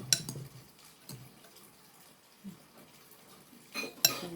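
Dishes and cutlery clink sporadically during washing, with a few sharp metallic knocks between quieter stretches, close and moderately soft.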